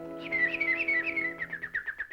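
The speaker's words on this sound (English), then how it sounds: "Why, the birds are singing." Cartoon birds in a Donald Duck short sing a bright, warbling whistled chirp that rises and trills over a steady held musical chord, growing into a fluttering run of quick repeated notes.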